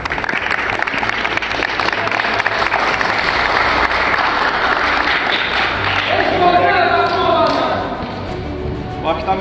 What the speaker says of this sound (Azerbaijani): Bir daha özünüzü alqışlayın.